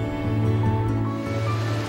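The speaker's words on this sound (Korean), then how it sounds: "세상이라도 집어삼킬 듯 밀려드는 파도가 운치를 더하는데요" Sea waves roll in on the shore of a windswept East Sea fishing village in Yeongdeok, a continuous heavy wash of surf with a droning undertone, steady and fairly loud, with no talk.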